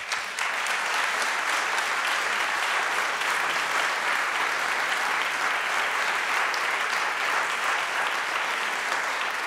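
Sustained applause from an audience at a panel discussion on learning to take risks, steady and dense broadband clapping filling the hall for the whole stretch.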